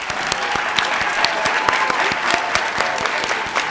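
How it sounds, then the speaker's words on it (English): Audience applause fills a university graduation pinning ceremony for education graduates, a steady, moderately dense clapping from a sizable crowd heard close and continuous throughout. "Please give all early childhood education educators a round of applause."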